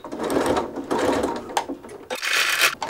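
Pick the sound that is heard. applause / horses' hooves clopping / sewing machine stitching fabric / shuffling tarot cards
sewing machine stitching fabric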